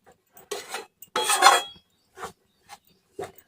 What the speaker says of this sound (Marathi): आणि असं ढवळतच राहायचे आता खाली पीठ करपून जाईल म्हणून कमी गॅसवरती ढवळतच राहायचे